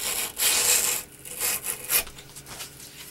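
Sandpaper rubbed by hand over a surface in a few quick back-and-forth strokes, a close raspy scratching that rises and fades with each pass.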